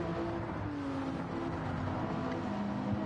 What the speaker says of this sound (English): Love the sound of these engines going by.